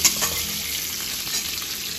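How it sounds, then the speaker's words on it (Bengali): Potatoes frying lightly in oil in a pan, a steady close sizzle with faint crackle throughout, no voices. "এপাশে আলুটা ফ্রাই করে নিচ্ছি আগে, আর খুব বেশি ফ্রাই করবো না, হালকা করেই ফ্রাই করবো।"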